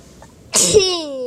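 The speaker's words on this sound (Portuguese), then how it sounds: "Espirro." A single sharp sneeze bursts out after a quiet moment, close and loud, trailing off into a brief voiced tail.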